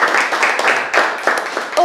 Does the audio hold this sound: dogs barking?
no